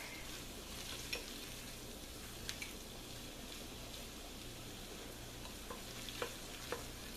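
Flour roux for clam chowder stirred in a pot with a wooden spoon, a faint steady low sizzle with a few soft scraping clicks, quiet and alone.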